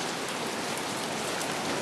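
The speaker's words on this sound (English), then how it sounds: "And right now it's raining. There's a storm." Heavy rain pours steadily outdoors in Varadero, Matanzas, Cuba during an approaching tropical storm, a dense, even hiss with no pauses.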